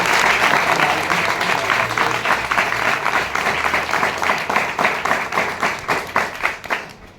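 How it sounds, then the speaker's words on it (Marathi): An audience at a lecture in a school and junior college hall bursts into loud, dense applause that continues steadily, then thins out and fades toward the end. "एकदा जोरदार टाळ्या होते"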